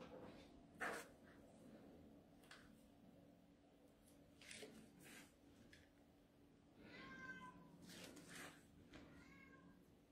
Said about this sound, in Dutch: Dat is de kat, horen jullie die ook?